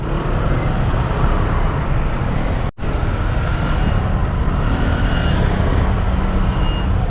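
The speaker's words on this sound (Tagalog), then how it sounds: "Daming motor ah." Busy road traffic with many motorcycles, a steady dense rumble of engines passing close by, loud and continuous with a brief dropout partway through.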